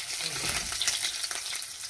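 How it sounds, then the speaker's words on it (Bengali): Small fish frying in oil in a pan, a steady close sizzle with bursts of spattering crackle throughout. "মাছটা ভাজা হয়ে গেছে"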